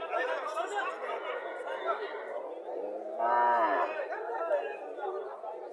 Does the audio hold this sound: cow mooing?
yes